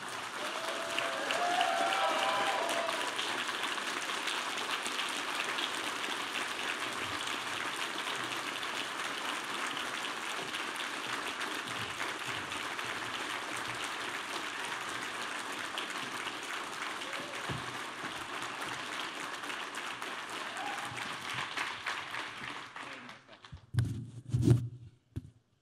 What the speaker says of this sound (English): give an even bigger round of applause to Mr.